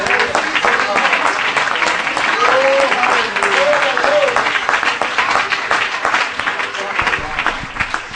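A church congregation claps together in a lively, dense burst of applause that carries on for several seconds at a steady level, with voices singing and calling out over it.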